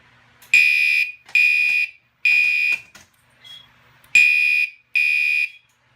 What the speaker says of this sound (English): listen to how the alarm sounds